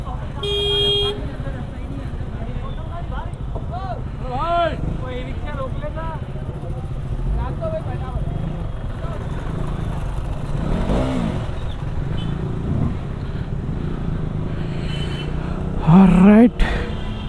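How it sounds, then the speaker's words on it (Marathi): Busy street traffic with engines rumbling and a horn honking near the end, while people talk over the noise. "ट्राफिक पण आहे ट्राफिक ट्राफिक ट्रॅफिक"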